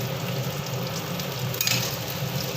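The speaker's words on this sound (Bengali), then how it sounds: "এখন আদা জিরেটা পেস্ট করা কড়াইতে দিয়ে দিলাম দিয়ে নাড়তে থাকলাম" Ginger and cumin paste frying in a wok for vegetarian matar ghugni gives a dense, even hiss up close, with a small stirring clatter near the end and no talk.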